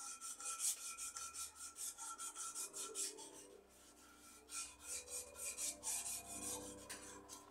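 A wooden wand is sanded by hand with sandpaper, giving steady rhythmic rasping strokes that repeat closely and fairly near, alone without talk.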